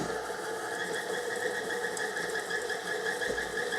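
An electric mixer creams butter and sugar for butterscotch brownie bars, a steady close motor whir with a slight rhythmic rattle that holds level throughout.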